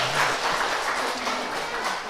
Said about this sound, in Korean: 우리 축복의 박수 한번 하겠습니다